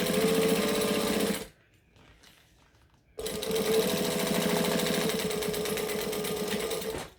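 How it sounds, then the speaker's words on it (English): A sewing machine top stitches through two fabric layers, lining and outer, running loud and close in a fast steady whir, stopping for about two seconds of near silence, then starting again and running to the end. "Now we're top stitching both layers."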